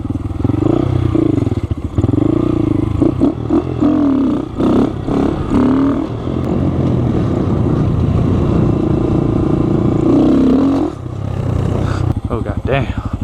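A Honda Grom motorcycle engine drones steadily while being ridden, rising and falling with throttle changes, close to the mic, with a rider's voice talking over it at times.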